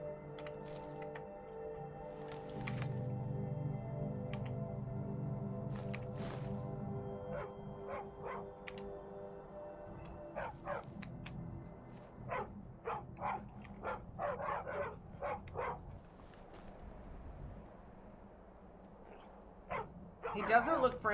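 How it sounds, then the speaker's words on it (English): Dog barking inside the video game Skyrim: a few short, sharp barks scattered through the second half, mixed with game sounds and heard under nearly continuous talking from a player. "Oh, a doggy! Hi, doggy, doggy."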